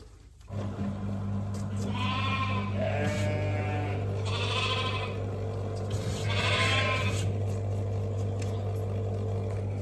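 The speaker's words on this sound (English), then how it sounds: "So there's a sheep in there that I think you may have seen wandering around in the stocks." Several sheep bleat in a livestock barn where cattle are being moved out, with three or four wavering calls spread across the stretch over a steady low mechanical hum and farmyard background.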